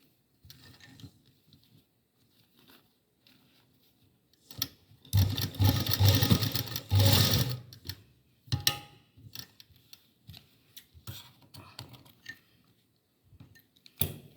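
A sewing machine stitches a small Ladoo Gopal dress in a quiet room: a loud, rattling run of a few seconds in the middle, with brief softer bursts and handling noise before and after, no speech.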